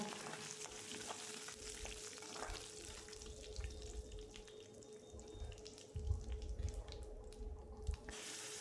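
Oil crackles and sizzles steadily with tempering spices and curry leaves frying in it, a low background hum and occasional clinks underneath, no one speaking.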